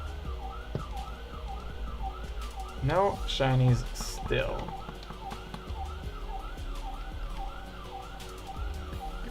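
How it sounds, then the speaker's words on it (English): Emergency sirens wail outside, a steady repeating rise-and-fall whoop heard through a wall from some distance, with a voice talking briefly and quick game-like chimes over it. "Sorry about the siren blarings."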